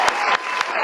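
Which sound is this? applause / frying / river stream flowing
applause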